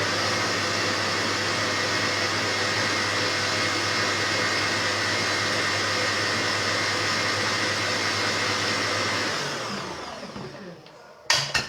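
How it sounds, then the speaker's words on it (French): A loud, steady electric mixer beating eggs whirs continuously for about ten seconds, then winds down and stops, followed by a couple of small knocks. "on va commencer par battre les œufs comme une omelette"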